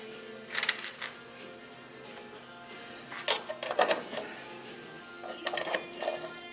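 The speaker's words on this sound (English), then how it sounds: "Now I'm going to go and rivet those in." Rivets being set into parts of a vintage Zenith radio chassis, giving a few separate clusters of sharp mechanical clacks and taps with quiet pauses between them, close and fairly faint.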